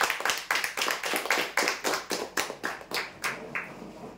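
A small group claps for winners of a prize draw, roughly a dozen uneven, spaced handclap bursts in a loose rhythm, close and moderately loud with no voices.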